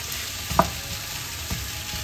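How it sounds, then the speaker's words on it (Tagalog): Food sautés in a pan with an even sizzle, marked by a couple of brief clinks and stirring scrapes close by. "Pag ginigisa po."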